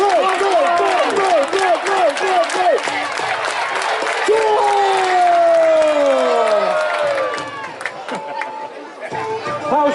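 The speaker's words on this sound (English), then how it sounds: "shall we show them what a real war cry looks like?" Live audience at a Wars of the Roses show at Warwick Castle, Lancaster side shouting a war cry: loud massed voices surging in rhythmic bursts, then a long rising-and-falling roar, near and dense, with chatter and a compère's voice mixed in.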